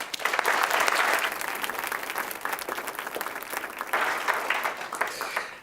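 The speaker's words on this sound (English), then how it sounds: "Please give him a round of applause as he takes the mic" A school event audience breaks into sustained applause, loud and steady throughout with dense clapping from a large crowd, easing slightly toward the end.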